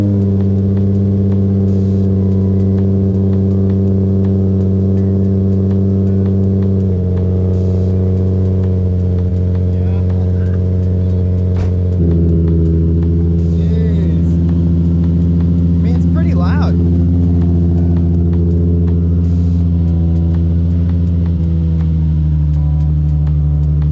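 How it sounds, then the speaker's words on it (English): Cold start of a 2007 Nissan 350Z HR V6 fitted with a Megan Racing exhaust and muffler delete, loud droning idle with strong low harmonics, stepping in pitch as revs settle, steady and close throughout. "First cold start on the 2007 HR."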